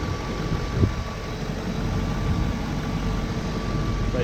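A BMW 540i engine idling after a cold start, a steady, quiet low rumble that holds even and close throughout, with no voices over it.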